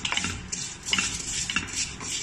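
Nest pasta fries in oil in a pan while being stirred, with repeated scraping and clinking of a utensil against the pan over a soft sizzle.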